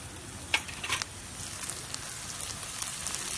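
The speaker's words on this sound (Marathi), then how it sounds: "कांद्याचे रंग बदलेपर्यंत कांदे चांगला भाजून घ्यायचं." Onions frying in oil with chilli powder and turmeric, a steady sizzle with scattered crackles and a few soft scraping stirs, close and fairly quiet, no voices.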